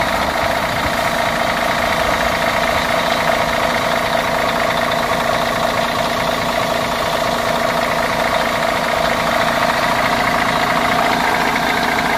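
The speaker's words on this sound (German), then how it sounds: "Und jetzt hören wir uns den Motor nochmal." A former Bogestra city bus, fleet number 856, sits with its engine idling: a steady, close, continuous diesel rumble with an even knocking pulse that runs alone for the whole stretch.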